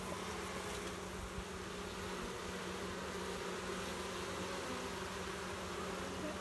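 Honey bees buzz continuously around an opened hive after finishing their syrup bag, a dense, steady hum at low level with no pauses.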